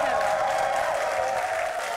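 A TV studio audience at a French-language launch show applauds Rocky Gold, a steady, dense wash of clapping that holds evenly throughout with a faint undertone of voices.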